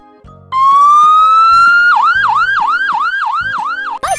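A loud cartoon-style fire truck siren, starting with a long rising wail and then switching to a fast repeating whoop, very close and alone.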